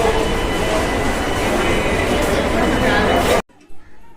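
A Kolkata metro train rumbles loudly and steadily at close range, a broad roaring hiss that cuts off abruptly near the end, leaving brief quieter sounds.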